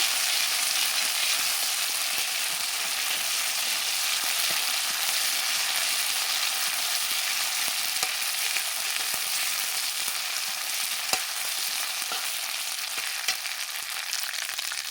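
Ground spice paste fries in hot oil, giving a steady, dense sizzle that holds evenly throughout with faint scattered crackles and no talking.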